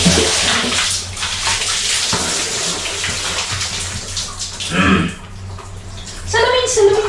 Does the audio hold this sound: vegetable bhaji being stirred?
no